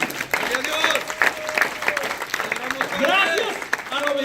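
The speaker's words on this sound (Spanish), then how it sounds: "Le damos un aplauso a Jesús." A church congregation applauds steadily over several seconds while voices call out and a speaker talks over the clapping.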